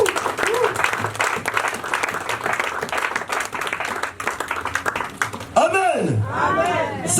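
Church congregation breaking into loud, sustained applause during a worship service, with voices and a shout rising over the clapping near the end.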